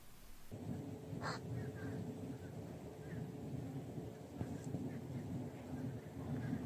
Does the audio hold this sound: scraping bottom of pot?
no